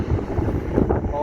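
Strong wind buffets the microphone outdoors on a pilgrimage to the Pipadi Ramdevpir shrine, a continuous low rumbling roar with gusty swells throughout, close and loud.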